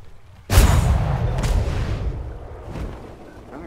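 Cannon fire in the video game Atlas, with ships' cannons firing at a hydra: one sudden loud boom that rolls into a long rumbling tail, with a fainter follow-up blast about a second later.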